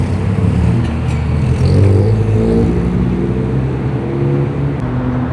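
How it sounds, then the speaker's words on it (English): Several cars arrive at an underground car meet in Osaka, a steady engine rumble echoing close by with no talk over it. "there's so many cars arriving now"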